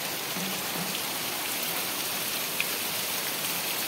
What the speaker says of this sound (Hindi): देखो जोरे वर्षा हो बहुत जोरे वर्षा हो